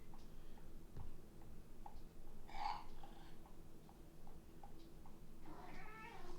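A single short cat meow sounds near the middle of the passage, moderately clear, set against quiet game background sounds with faint ticks and no speech.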